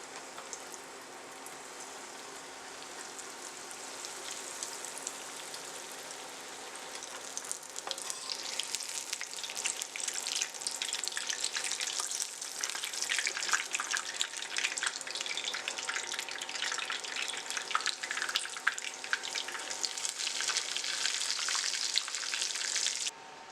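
A breaded chicken patty frying in oil over medium heat for a crispy chicken burger, a steady hiss of sizzling that grows louder and denser after the first few seconds and holds without talk.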